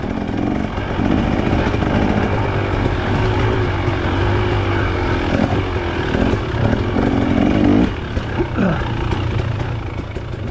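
Dirt bike engines during a hare scramble race at Penobsquis make a loud, continuous, close engine drone, with a rising, heavier surge toward the end of the run.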